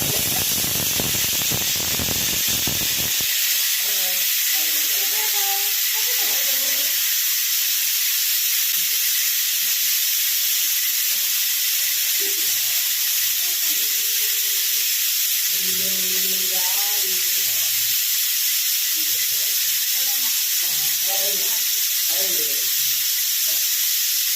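Steady, loud hissing steam fills the whole stretch while mushroom pulao cooks in a pressure cooker, with someone speaking over it.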